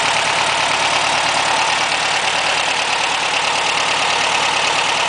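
A Volkswagen Beetle engine with freshly adjusted valves idles loud and close, a dense, steady air-cooled clatter that holds without change throughout.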